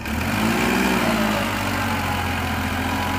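A tractor engine pulling a cultivator runs loud and close, holding a steady heavy rumble with a slight rise in revs early on and no pause.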